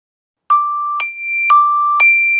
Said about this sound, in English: when we reach and cross the boundary, the international navigation warning sounds